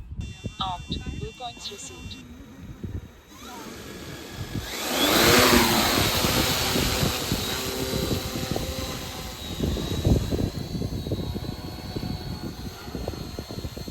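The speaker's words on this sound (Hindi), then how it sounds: "अभी हमारा जो ड्रोन है वो जीपीएस में है और एक जगह होल्ड है, स्टेबल है।" A camera drone hovers steadily in GPS hold mode outdoors, its propeller whine and buzz continuous and fairly loud throughout, with some handling noise at the start.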